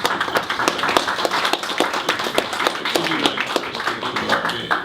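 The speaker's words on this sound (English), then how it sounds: "Can we just put a round of applause for Hubert for what he's doing?" An audience at a public-sector infrastructure talk in Nigeria claps steadily, a dense patter of many hands at close range, sustained evenly throughout with no voices over it.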